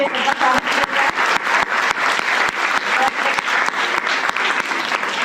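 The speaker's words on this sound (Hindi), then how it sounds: "एक जोरदार ताली से" Loud, dense applause from an audience at a heritage festival lecture fills the whole stretch, steady and close with a hint of voices beneath the clapping.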